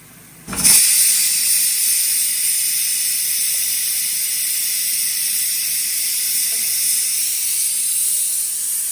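Rice tipped into a hot pan of oil for masala rice bursts into a loud, steady sizzle with a sharp onset, then keeps hissing evenly and continuously to the end.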